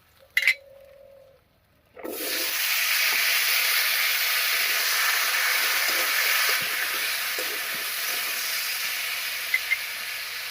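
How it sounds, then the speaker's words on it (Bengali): Potatoes frying in hot oil in a village kitchen after fish, a steady loud hiss and sizzle that starts abruptly and runs continuously, preceded by a brief clatter and a moment of quiet. "এই মধ্যে আলুটাও একবার ভেজে নেব"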